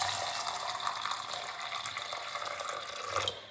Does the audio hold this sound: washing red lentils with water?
yes